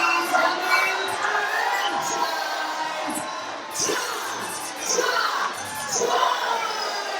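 A wrestling crowd at a CCW anniversary show in Port St. Lucie, Florida rises to its feet, cheering and shouting loudly in swelling waves with scattered whistles, sustained throughout.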